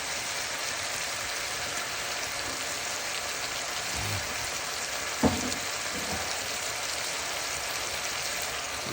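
Chicken frying in a pan for Guyanese cassareep chicken as green seasoning goes in, a loud continuous sizzle with a brief clatter partway through and no talking.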